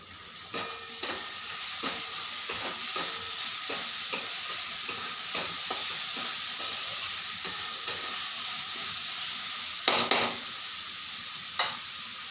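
Onion, garlic, ginger, chopped tomato and green chili fry in a pan with a constant loud sizzle, broken by frequent sharp spatula scrapes and taps, the clatter growing denser near the end.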